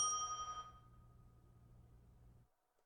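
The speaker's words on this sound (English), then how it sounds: "It was the overtime bell." A single bell struck once during a CS:GO match broadcast, a faint bright ring that fades quickly, leaving a low background hum that stops abruptly.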